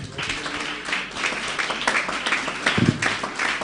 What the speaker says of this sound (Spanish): Aplauso para o grupo aqui